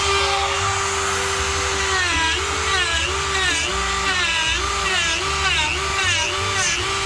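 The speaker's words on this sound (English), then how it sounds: "I'm gonna go ahead and use the Dremel and put the fur in with it." A Dremel rotary tool carves fur and beard texture into a wood spirit figure, its high whine rising and dipping in repeated short passes as the bit bites into the wood, steady and close with a low motor hum beneath.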